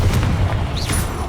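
A deep, booming blast from the Confringo spell in the Hogwarts Legacy video game, loud and close, over a rumbling backdrop with a faint whooshing sweep.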